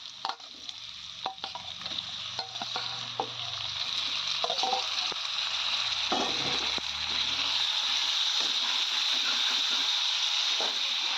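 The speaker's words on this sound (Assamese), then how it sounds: "মাংসখিনি অলপ ভাজি লওঁ ভালদৰে" Chicken meat frying with ginger and garlic in a pan, a steady sizzle that swells louder and fuller as it goes, with scraping stirs and clacks of a spoon.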